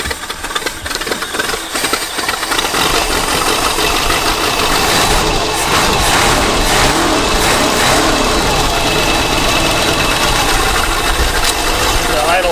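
A barn-find Mercury Cougar engine, revived after about 40 years, runs steadily near the microphone with a rough, uneven idle and occasional knocking. The loud drone never drops out, and people talk over it.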